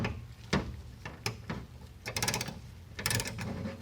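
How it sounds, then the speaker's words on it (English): Disc brake caliper piston being forced back into its bore with a compression tool, heard as a series of separate metallic clicks and ratcheting creaks spread irregularly across the stretch, close up, with no talking. "Push the caliper piston back into the caliper and relieve that hydraulic fluid out of the bleeder."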